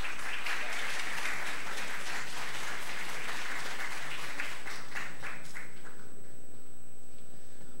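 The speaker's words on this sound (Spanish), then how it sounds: "Quiero pedir un aplauso para Javier Moreno." A crowd applauds at a football film festival panel discussion in Peru, dense clapping that builds and then tapers off over several seconds, fading into quiet near the end.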